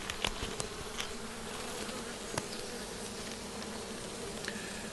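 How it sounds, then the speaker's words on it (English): Honeybees humming around an open hive frame on a warm spring day, a dense steady buzz with individual bees zipping close by now and then, fairly quiet and uninterrupted. "The bees are getting a bit more agitated now."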